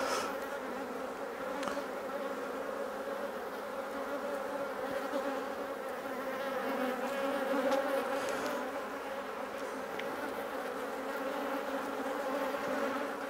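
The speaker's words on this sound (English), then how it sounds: "So the bees are getting really quite fractious now." Agitated honey bees during a hive inspection, producing a dense, continuous buzzing drone that holds steady and close throughout, with no voices.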